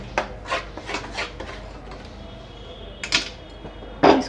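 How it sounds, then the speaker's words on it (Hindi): Grated coconut dry roasting in a kadhai for besan laddu, with a spatula scraping and rubbing against the pan in repeated rasping strokes, then a short pause before a few more scrapes, close and moderately loud. "तो चलिए अब हम इसे नारियल के बुरादा को भी सूखा भून लेते हैं"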